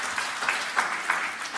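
Brief church congregation applause, a short burst of clapping with a few distinct louder claps, moderately faint and over within a couple of seconds.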